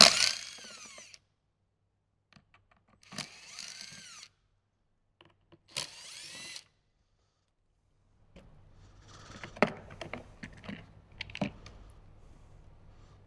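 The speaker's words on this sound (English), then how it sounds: "So I have my T20 on my screw gun already." A screw gun fitted with a T20 bit drives out speaker screws in a 2015–2018 Jeep JK Wrangler, in three short whirring bursts separated by silence, then clattering handling and tapping of screws and parts.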